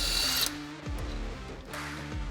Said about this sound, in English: grab your impact or your ratchet and remove the Segway belt removal tool